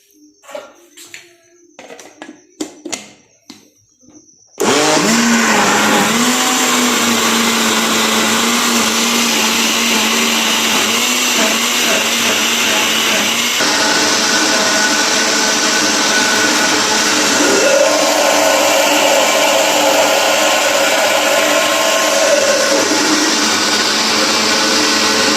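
Electric blender churning milk and yogurt into butter for homemade ghee, a few handling knocks and then a loud continuous motor whir, with a pitch shift partway through.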